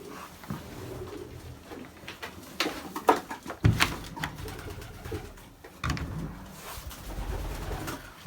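Young pigeons, around ten days old, coo softly and repeatedly inside a loft, with occasional knocks and shuffling movements nearby.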